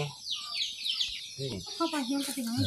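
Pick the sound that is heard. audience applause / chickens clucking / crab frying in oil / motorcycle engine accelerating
chickens clucking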